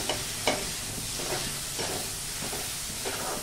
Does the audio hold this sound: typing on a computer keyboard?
no